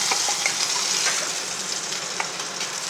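Chicken sizzles and spatters steadily in hot ghee for a chicken ghee roast, a dense close frying hiss with scattered crackles and pops and no voices.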